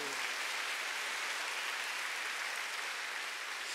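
A church congregation claps together in sustained, dense applause, an even wash of hand claps that fills the room at moderate volume without pauses.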